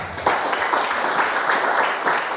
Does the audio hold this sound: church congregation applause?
yes